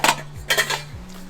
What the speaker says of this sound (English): Two pots and pans stacking